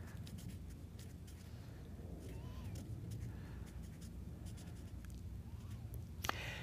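Pen scratching on paper while drawing stick figures, soft intermittent strokes and taps heard close but faint against quiet room noise.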